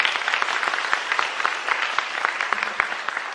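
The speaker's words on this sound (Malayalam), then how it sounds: "നല്ലൊരു കയ്യടി കൊടുത്ത് ഈശോയ്ക്ക്." A church congregation applauds for Jesus during a Malayalam prayer talk, with loud, steady clapping from a crowd that continues throughout, individual claps rising out of the dense sound.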